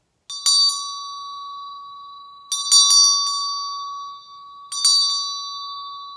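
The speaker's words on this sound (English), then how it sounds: "These Tibetan bells tend to be less than perfect." Three separate strikes of a bright metal Tibetan ritual hand bell, each ringing out with a sustained shimmering tone that slowly fades between strikes.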